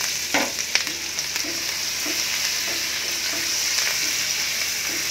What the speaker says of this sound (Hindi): लहसुन अदरक हरी मिर्च इसको भी मैं पहले डाल के फ्राई किए भूनूंगी